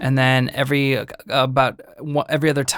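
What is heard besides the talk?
None of the usual background noises is heard.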